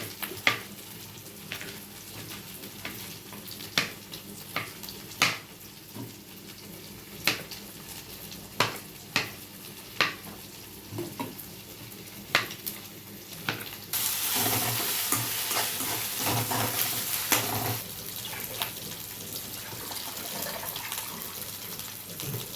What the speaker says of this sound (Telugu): నేను కొద్దిగా అల్లం వెల్లిపాయ పేస్ట్ పచ్చివాసన పోయే వరకు వేసుకోవాలి.